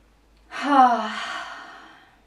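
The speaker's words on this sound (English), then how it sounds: "I'm going to go ahead and just have you take some deep breaths" A single deep, audible breath during a guided meditation: a breathy inhale swells over about a second and a half, then fades slowly, close and fairly soft, with no talking.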